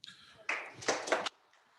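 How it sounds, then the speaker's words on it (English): Hands clap together in a short burst of applause from a forum audience, lasting under a second with several bright strikes, then fading off quickly. "There is your round of applause for our panel for making time out to join us"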